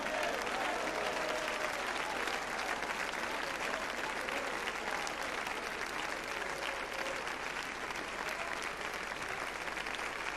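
A church congregation bursts into sustained applause, dense continuous clapping heard at a steady level throughout with no voices over it.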